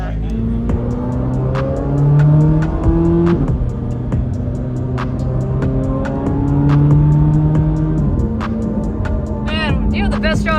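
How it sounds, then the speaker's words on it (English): A 2023 Corvette Z06 screams through rising and falling revs on a racetrack hot lap, loud and close, with quick gear changes, rapid ticking, and a brief tire squeal near the end. "I'm gonna get a passenger ride along in a hot lap around the racetrack in the Z06"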